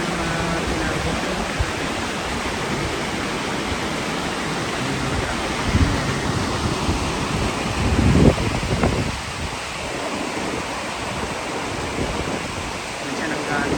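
Tinago Falls in Inalahan, Guam, a waterfall that gives a constant broadband roar of falling water, steady and enveloping throughout, with a slightly louder surge partway through.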